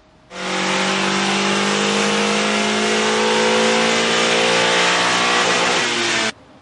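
A Honda Acura TSX engine revs hard and steadily on a dyno, a loud sustained wail with rising harmonics held for about six seconds before cutting off abruptly.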